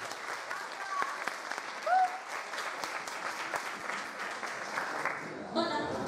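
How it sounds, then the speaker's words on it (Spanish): An audience at a book presentation applauds as the author is introduced, with sustained, moderately loud clapping throughout, a brief whoop or vocal cry near the start, and a voice breaking in at the end. "Un aplauso"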